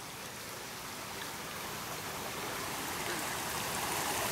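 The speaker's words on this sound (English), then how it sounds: "Let's go check out the creek. There's the water." Creek water flowing through a swamp at night, a steady broadband rushing and trickling that grows slightly louder over the span, with no voices.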